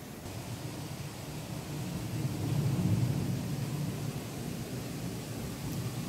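Steady heavy rain roars throughout, with a deep rumble of thunder swelling in the middle before fading back into the downpour.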